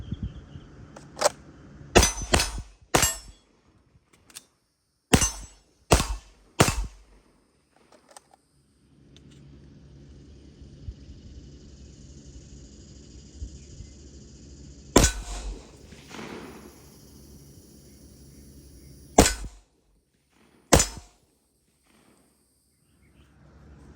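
Sharp, loud Glock G34 pistol shots fired at targets, mostly in quick pairs with pauses between strings, each crack ringing out against a quiet outdoor background.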